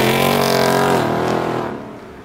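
V8 car engine revving hard with a deep, rich roar, loud and close, then fading over the final second as the revs drop away; no talking over it.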